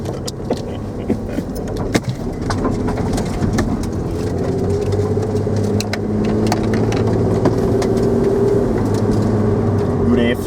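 Toyota Camry taxi pulling away gently from a standing start, a steady low engine drone that builds slightly in pitch and loudness, with voices talking over it inside the car.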